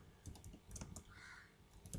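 Keys being typed on a computer keyboard while entering a yum package command on a Linux server, a quick run of separate clacks with short pauses, close and clear, no voices.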